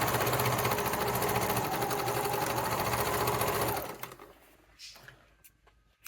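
A sewing machine runs steadily, stitching the seam of a Yuletide Christmas stocking with a backstitch at each end, a loud continuous whir that stops abruptly, leaving faint clicks and handling noises.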